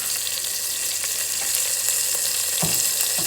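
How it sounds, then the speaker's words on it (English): Garlic ginger paste fries in a pan for a spinach lentil dal, a continuous bright hiss with faint crackles and a single clunk of the pan near the end. "And we are adding 1 teaspoon of garlic ginger paste."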